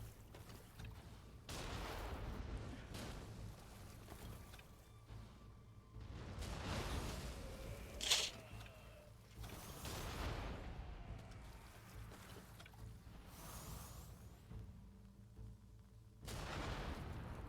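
Cannon blasts in the video game Nioh 2, a few heavy booms spread over a noisy battle scene, with one sharp crack standing out midway.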